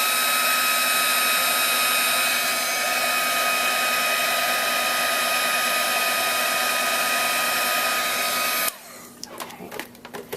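Heat gun blowing hot air over embossing powder on a card, a loud steady close whoosh with a constant motor whine for several seconds, then cutting off abruptly into quiet handling clicks and rustles.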